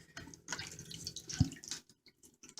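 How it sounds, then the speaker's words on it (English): Water already hot on a kitchen stove is scooped and poured from a pot. A few brief splashes and a drip are heard against quiet background clatter. "I'm going to take some of this water from here that's already hot."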